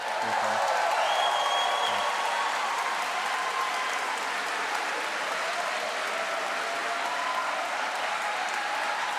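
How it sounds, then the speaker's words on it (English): A graduation audience at a school of music and performing arts claps and stamps their feet as a warm-up, a dense, continuous roar of applause that holds steady and loud throughout without voices. "Some applause. Stamping of feet."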